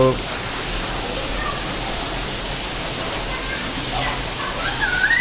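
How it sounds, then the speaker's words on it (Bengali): Steady broadband hiss of rain falling outside a muddy veranda, continuous and fairly close, with faint bird chirps rising briefly near the end. "বৃষ্টি"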